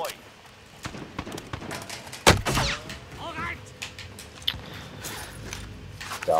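Fortnite gunfire in a solo fight, with a sharp loud shot burst near the middle and scattered fainter shots and game effects around it, while people talk over the action.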